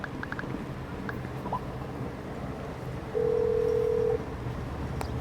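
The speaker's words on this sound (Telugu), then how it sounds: "మళ్ళీ క్యాబ్కి ఫోన్ చేద్దాం గైస్." A phone in a video game dials to call a cab: a few quick beeps, then a steady, moderately loud tone holding for about a second over quiet background, with no talking.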